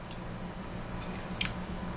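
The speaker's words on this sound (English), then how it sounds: "I don't know if you can hear it, but it's got some crunch." Close, quiet chewing of crunchy Southern savory coleslaw, with soft squishy mouth sounds and a couple of brief crisp crunches.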